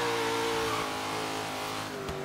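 A supercharged Chevy Nova in the Forza Horizon 3 racing game revs with a loud, steady engine roar close up, in rainy conditions, holding a constant drone before easing off briefly near the end.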